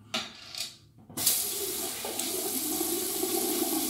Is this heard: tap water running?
yes